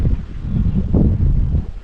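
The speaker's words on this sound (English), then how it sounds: "So windy." Steady low-pitched wind rumble buffeting the microphone, gusting in waves, loud and continuous with no other clear sounds.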